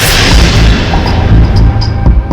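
A bomb goes off with a loud, deep, rumbling blast that keeps roaring for a couple of seconds, with crackling debris and faint higher bursts.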